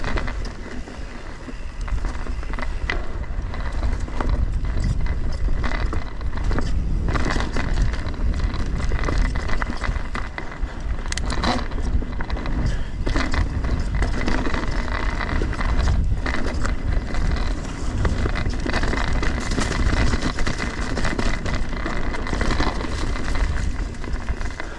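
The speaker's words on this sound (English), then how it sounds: "something is rattling like crazy" A Pivot Switchblade mountain bike rattles hard while being ridden over rough trail, loose clattering and knocking mixed with wind rush and tire noise in a constant, loud, uneven stream.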